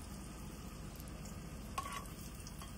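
Potatoes frying in a pan during Nepali-style pasta cooking, giving a steady close sizzle throughout with a brief clink partway through.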